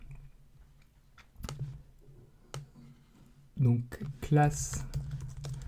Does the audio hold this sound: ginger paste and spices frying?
no